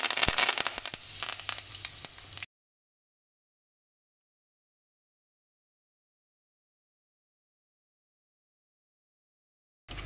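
A brief burst of dense crackling and sizzling as curry leaves hit hot oil, close up, cutting off abruptly into silence.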